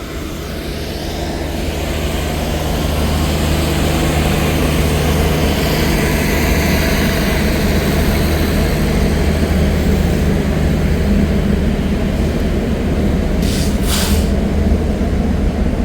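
A Shalimar Express train arrives at a station platform with a loud, close, steady low rumble and roar of engine and wheels that swells over the first seconds and holds, with a brief higher screech near the end.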